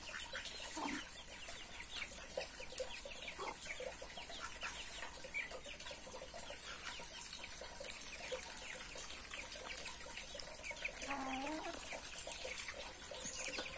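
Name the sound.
chickens clucking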